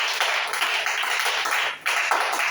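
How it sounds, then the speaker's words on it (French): An audience claps steadily for Sister Rebecca during a Sabbath service, a dense, even applause with a brief dip before resuming. "Acclamez pour la sœur Rebecca"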